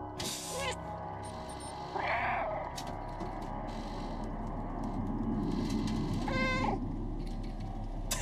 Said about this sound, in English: I signed up to be a cute cat in a game.